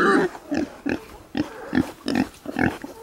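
Pigs grunt repeatedly in short, close bursts, a rhythmic series of snorty oinks with brief pauses between them.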